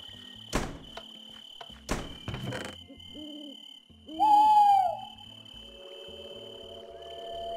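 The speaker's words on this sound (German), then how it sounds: "Eine Eule." An owl hoots once in Minecraft at night, a clear mid-pitched call rising out of quiet game ambience, with a few footsteps and thuds before it and a low steady hum after.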